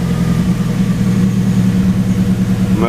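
A BMW E93 320i engine, just started after a crankshaft position sensor replacement, runs at a steady idle, a loud, close, even low rumble with a constant rhythmic thrum throughout.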